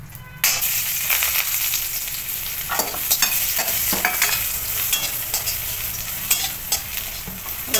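Crushed garlic dropped into hot oil with dry red chillies crackles loudly and steadily, with a burst at the start and frequent sharp pops and scrapes of stirring throughout.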